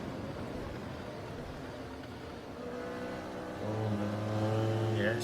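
A 1975 Formula Retro race car in Automobilista at the Österreichring, its engine humming low then revving up with rising harmonic tones as the throttle opens, steady and fairly loud throughout.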